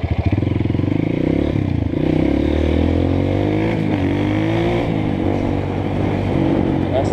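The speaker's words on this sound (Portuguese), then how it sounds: "Essa moto é braba demais" Honda CRF 230 dirt bike engine revving hard and close, a loud steady roar with rising and falling pitch, clattering mechanical noise throughout.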